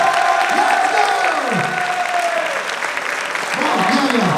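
Sustained crowd applause and cheering fill the space, with a voice speaking loudly over the clapping.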